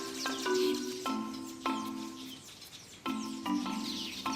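Black-headed weaver birds calling near their grass nests, a busy chorus of chattering, buzzing chirps and harsh churring notes in bursts, close and fairly loud with little pause between calls.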